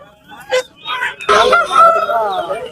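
A red-and-black rooster crows loudly and close by at a livestock market, one long wavering call that follows a few short clucking sounds.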